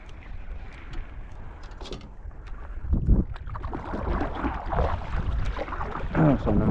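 Wind gusting and waves slapping against a small fishing boat out on choppy water during ultralight fishing, a rough close rumble with buffeting microphone wind that swells louder partway through.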